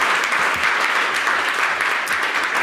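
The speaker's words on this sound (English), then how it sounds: "can we give warm applause to these winners, please?" A crowd gives hackathon winners warm applause at a community event, loud and steady clapping that holds an even, full intensity throughout without a break.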